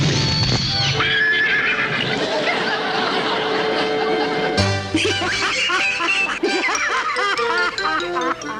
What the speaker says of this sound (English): is this a horse or is this a horse?